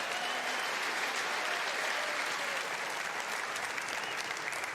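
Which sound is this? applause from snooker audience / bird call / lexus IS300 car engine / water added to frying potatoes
applause from snooker audience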